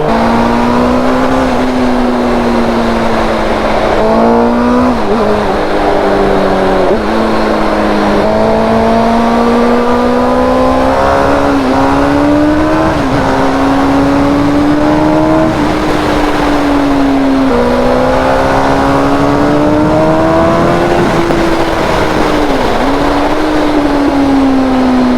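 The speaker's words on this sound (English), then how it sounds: "Sounds like a MotoGP bike." A Suzuki GSX-R600 K4 sport motorcycle engine revs loudly and close up, its pitch rising and falling in repeated sweeps over a steady, continuous roar.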